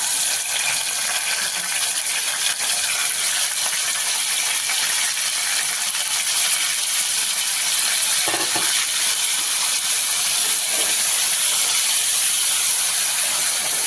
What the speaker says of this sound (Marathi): चांगलं तेलामध्ये आपण हे परतून घेऊया.